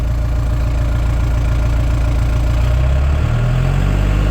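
A Bitelli BB642 gas screed's engine idling at tick-over with thick oil, a steady close rhythmic diesel chug with low pulsing throb, shifting slightly in pitch toward the end.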